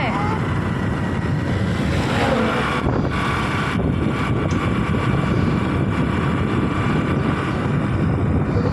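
A summer afternoon wind blusters over the microphone during a long drive, with a constant heavy low rumble and rushing roar and no clear breaks.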